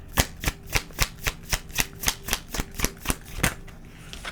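Tarot cards being shuffled and drawn, a quick run of crisp riffling snaps and slaps in an even, fast rhythm, close and alone with no voices.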